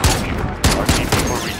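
Rapid bursts of automatic gunfire from a sentry gun in Call of Duty Modern Warfare (2019), several sharp loud cracks in quick succession over a dense, busy battle background.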